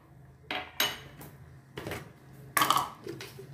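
A spoon clanks against a metal cooking pot while avial vegetables with drumstick and tomato are mixed, giving a few sharp, close metallic knocks and scrapes separated by short pauses.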